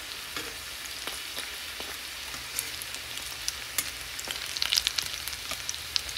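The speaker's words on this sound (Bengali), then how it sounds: "এবার আমি বড়া ভেজে নেব" Lentil fritters (bora) fry in oil with a soft, even sizzle and bubbling, broken by occasional light clicks and spatters, heard alone and fairly quiet.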